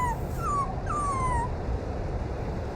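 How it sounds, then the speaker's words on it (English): A small white puppy gives a few thin, high whimpering whines in quick succession near the start, then falls quiet over a steady low background rumble. "I hear a slight puppy humming"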